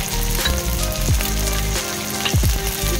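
Whole spices frying in hot oil for an egg curry, a dense, steady sizzle with occasional stirring scrapes, close and loud with no talk.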